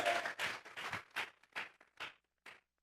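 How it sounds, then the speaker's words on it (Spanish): A church congregation claps together in a steady rhythm as an offering of praise to God, the bursts of clapping close and fairly loud, then tapering off into silence. "Vamos a regalarle ofrenda de palmas al Dios de la gloria"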